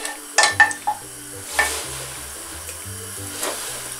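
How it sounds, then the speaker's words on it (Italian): Butter, 20 grams, melting in a preheated hot saucepan, giving a soft sizzle with a few sharp clinks and stirring scrapes, close and fairly quiet. "In questa casseruola ho messo a sciogliere metà quantità del burro presentato nella lista degli ingredienti, 20 grammi"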